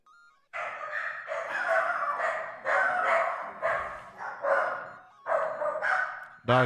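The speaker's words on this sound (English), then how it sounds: "Dogs are having none of that, dude." Several dogs bark loudly and close by in repeated bursts, a steady run of barks with brief pauses and almost no gaps between them.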